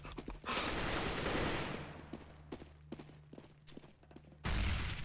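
Gunfire in the shooter game CS:GO, a dense burst of shots loud at the start, then scattered quieter cracks, and another heavy burst near the end.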